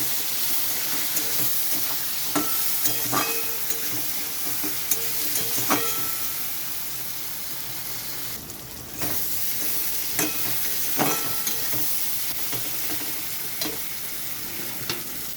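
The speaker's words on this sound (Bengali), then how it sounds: "তো এখানে আমার সব মশলা দেওয়া হয়ে গেছে, এখন এটা ভালো করে কষাতে হবে।" Spice masala with green chili and tomato sautéing in a pan for a fish curry, a steady close sizzle with irregular scraping and tapping of a spatula throughout, no speech.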